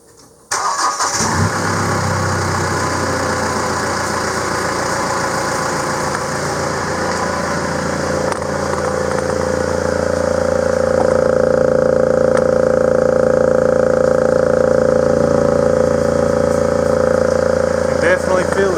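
A Mahindra Roxor fitted with a new snorkel cranks briefly, fires up and settles into a loud, steady running engine that rises in revs, with someone speaking over it.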